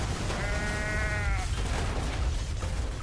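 A single drawn-out goat bleat from the video game Goat Simulator, loud and wavering for about a second over a dense low rumbling game soundscape that carries on afterward.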